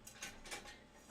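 Quiet metallic clinks and scrapes of a pan being handled nearby, a few soft knocks in quick succession.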